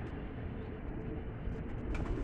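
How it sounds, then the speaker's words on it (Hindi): Lakha pigeons bred for flying, kept in a Lahore loft, cooing softly amid a dense, steady background rumble, with no clear separate calls standing out. "ये लाखे कबूतर हैं जो हमने बनाए हैं"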